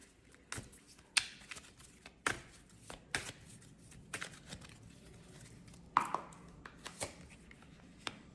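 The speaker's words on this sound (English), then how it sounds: "Let me shuffle the cards." Tarot cards are shuffled by hand in a quiet room, giving a series of soft, irregular slaps and riffles spread across several seconds, faint and close with no talking.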